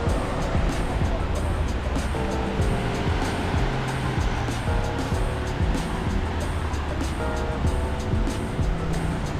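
Small ocean waves wash onto the shore near Kamakura, a continuous hiss of surf under a steady rumble that sounds like nearby traffic or a motor, with no speech in the clip.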